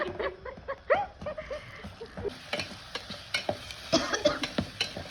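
Whole garlic masala sautés in a pan in a hostel kitchen, giving a close sizzle broken by repeated stirring scrapes and clinks of a spoon against the pan.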